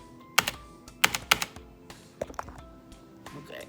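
Clicky typing on a SteelSeries Apex 5 keyboard, a few sharp bursts of keystrokes near the mic separated by short pauses, fairly loud and alone.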